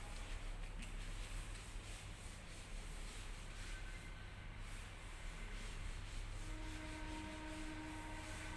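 Steady rubbing and scraping of a board being wiped clean in a classroom, a continuous close, even friction sound with no talk over it.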